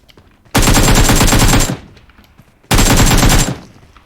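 Two loud, sustained bursts of rapid automatic gunfire in PUBG Mobile, about a second each, separated by a short quiet gap, close and harsh.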